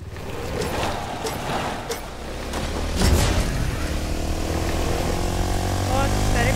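A Fortnite helicopter flies nearby with a steady, loud rotor and engine drone that swells midway, heard under excited talking from players throughout.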